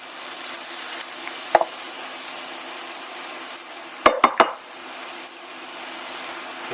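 Lemon slices sizzle steadily in hot cooking fat in a pan, a close, even hiss broken by a few quick utensil knocks, with no talking.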